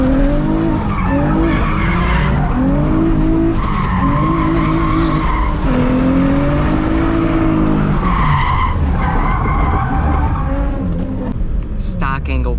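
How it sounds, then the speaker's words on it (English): A Nissan 350Z rolls through a street lap during a street drift session, its engine rising and falling through gears with tire noise, loud and close, while people talk over it. "So we're doing a little lap to make sure that it's all clear."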